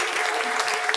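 A church congregation claps together in praise, a dense, steady burst of many hands filling the room at close range, with no voices rising above it.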